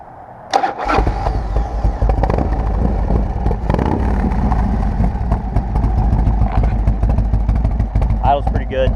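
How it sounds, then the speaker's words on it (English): A 1992 Harley-Davidson Softail motorcycle engine cranks and fires after a brief pause, then settles into a loud, steady, lumpy idle close by, running without a break to the end. "I'll start it up real quick so you guys can hear it"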